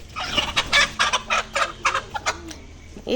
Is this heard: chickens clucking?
yes